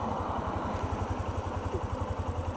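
A motorbike idles at a junction, a steady close rhythmic engine thrum with regular low pulses and no other sounds over it.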